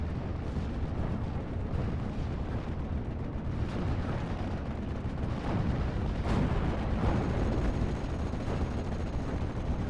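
Continuous rumbling barrage of Bofors anti-aircraft gun fire in the Steel Division war game, with dense overlapping booms and blasts under a constant low roar, heavy and sustained throughout with no talk.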